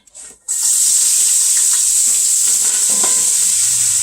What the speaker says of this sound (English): got my onions already cut up. I'm going to put them over here in my pan.